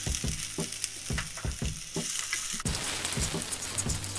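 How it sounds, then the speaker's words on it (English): Mustard seeds, chili and ginger sizzle in hot oil, a steady close crackle with rhythmic scraping strokes of a spoon stirring the pan, no voices. "The mustard seed has cracked, so we'll add the chili."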